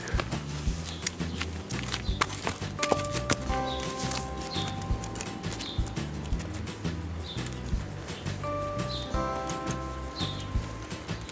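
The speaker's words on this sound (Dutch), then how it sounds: "Dus pony gaat de wei op." Pony hooves walking out to a pasture, a steady clip-clop of footsteps over a continuous outdoor background with music-like tones and occasional birdsong mixed in.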